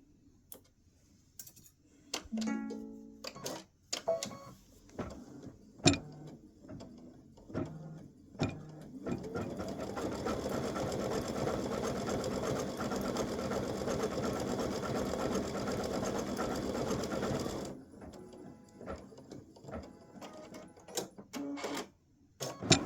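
An embroidery machine stitches an elf hat applique in a steady, dense mechanical run of rapid needle ticks lasting several seconds, framed by scattered clicks and handling taps before and after, with no talking.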